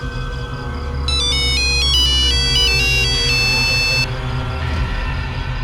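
A mobile phone ringtone chimes with a bright melodic electronic tune for an incoming call, playing for about three seconds over low indoor background hum.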